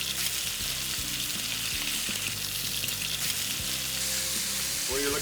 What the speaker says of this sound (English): the trick with searing any meat or fish is a hot pan. That's the sound you're looking for